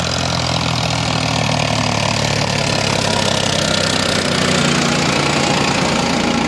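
A Farmtrac 60 tractor engine runs loud and close with a steady diesel throb and knock. A dense rumble continues throughout, with no talking.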